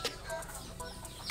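Black Australorp and Rhode Island Red chickens cluck faintly in short soft bursts, nearly buried under a loud, steady wash of background noise.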